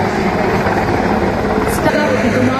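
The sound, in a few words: Indian Navy helicopter during operational demo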